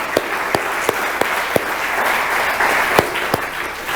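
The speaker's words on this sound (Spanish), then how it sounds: "Denle un aplauso gigante a Dios por eso" Steady applause from a church congregation during a sermon, a dense wash of clapping with a few sharper claps standing out, sustained for a few seconds with no talking over it.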